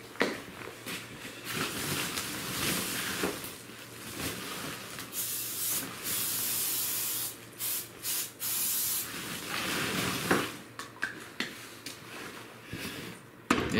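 Repeated bursts from an aerosol insecticide spray can, a steady hiss that starts and stops several times, fairly close, with no talking.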